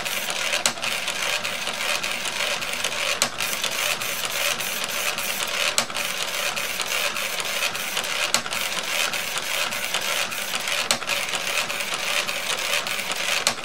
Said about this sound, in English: You can see that it prints only one row of dots at a time.